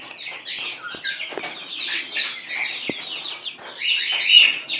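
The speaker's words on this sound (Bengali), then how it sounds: "আপনারা আমার ভিডিওতে দেখতে পাচ্ছেন যে আমার ফার্মের মুরগিগুলো" Chickens on a poultry farm cluck and squawk in a busy overlapping chorus, with occasional sharp calls and wing sounds nearby.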